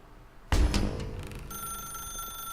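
A telephone rings in The Stanley Parable video game, starting with a sudden loud clattering bell that settles into a sustained electronic ringing tone, heard alone.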